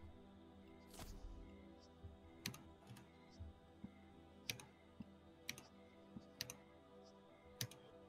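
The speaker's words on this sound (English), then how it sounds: "Stop tapping that keyboard" Keys on a computer keyboard clack in irregular bursts during a first-time WWE 2K24 gaming session, with sharp isolated taps and short clusters at moderate volume over a steady background hum.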